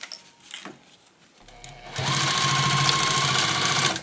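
Sewing machine stitching a seam on a bag with a 3/8 inch seam allowance, running steadily and fairly loud for about two seconds after a few quiet handling clicks, with no talk.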